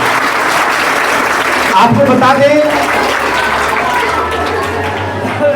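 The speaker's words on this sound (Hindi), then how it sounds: "जोरदार ताली से स्वागत करेंगे इनका" Audience applause at a school NSS award ceremony, steady clapping from a crowd that continues as a presenter speaks over it.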